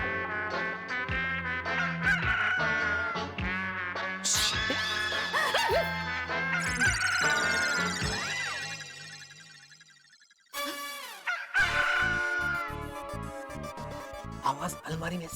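A rooster's muffled crowing comes from inside a closed cupboard in a house: loud, honking fowl calls that repeat over several seconds, cut off once by a brief silence and then resuming.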